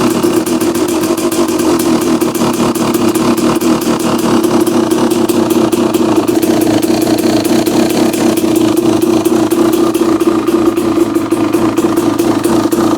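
A 2016 KTM 300 XC-W two-stroke dirt bike engine idles steadily and loud, a continuous close burbling hum that holds for the whole stretch with slight throttle wavers.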